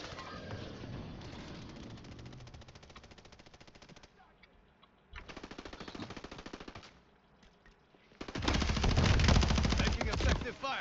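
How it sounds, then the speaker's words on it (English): Rapid automatic gunfire in the video game Warzone 3 comes in three bursts of fast, steady rattling shots, the last burst loudest and closest, separated by brief quieter gaps. "Why the hell somebody is shooting me?"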